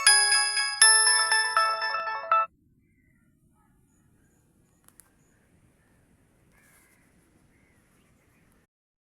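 A mobile phone rings with an incoming call, a loud, bright electronic ringtone playing close for about two seconds before stopping abruptly, followed by near silence with faint distant sounds.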